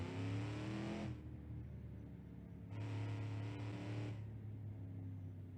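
A rowdy drum-braked car engine in the driving game BeamNG.Drive revs loudly and close in two sustained bursts, separated by a quieter idle stretch.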